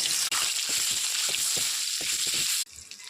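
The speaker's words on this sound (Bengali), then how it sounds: "তেল গরম হয়ে গেছে, ডিমগুলি দিয়ে দেব।" Boiled, peeled eggs rubbed with turmeric, salt and chili fry in hot oil for an egg curry, giving a steady close sizzle with soft crackles and spits that cuts off abruptly near the end.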